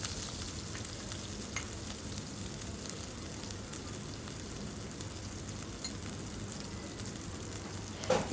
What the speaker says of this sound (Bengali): রসুন কুচিটা আগে থেকে একটু ভাজা ভাজা করে নেব